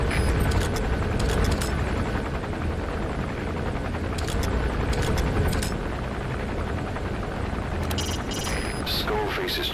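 A helicopter idles at a heliport in Metal Gear Solid V, its steady rotor and engine rumble filling the scene at constant loudness, with a few brief higher effects and faint game sounds layered over it.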